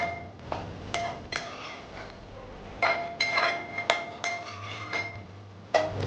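A spoon clinks and scrapes against a metal cooking pot while tomatoes and vegetables are stirred for a Sindhi lotus stem, potato and wadi curry. The sharp metallic taps come irregularly, close by, with no voices.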